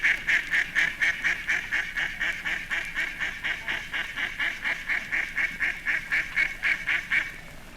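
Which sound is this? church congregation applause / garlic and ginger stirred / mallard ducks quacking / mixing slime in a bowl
mallard ducks quacking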